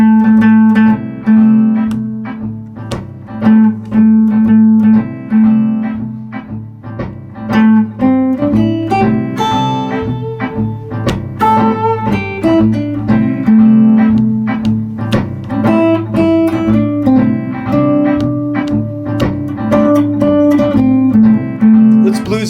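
Guitar repeats a short rhythmic motif phrase after phrase, plucked notes and chords played up close at a lively, steady pulse, with no talking.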